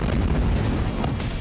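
Bombs and missiles explode in news footage of Middle East strikes, heard as a dense, loud, continuous rumbling roar with no single sharp blast standing out.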